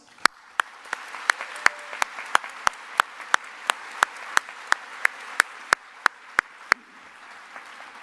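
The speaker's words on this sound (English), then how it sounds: "Please join me in another round of applause." A single pair of hands claps in a sharp, regular rhythm, roughly three claps a second, each crisp and close over a faint room murmur, as a round of applause follows a performance at a programming contest opening ceremony.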